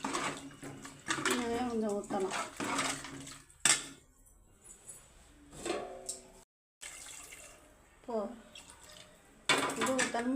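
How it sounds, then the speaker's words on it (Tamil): Water is poured into a pot of cooking chicken curry, with short splashing and trickling bursts between stretches of a person talking, close and moderately loud. "கறி வேகணும், அதுக்கு தண்ணி ஊற்றணும் நல்லா வேகிற அளவுக்கு."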